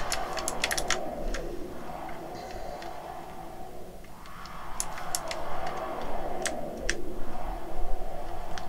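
Computer keyboard keys tapped during play of an RPG pixel game give light, close clicks in small irregular clusters over soft game music, with no speech.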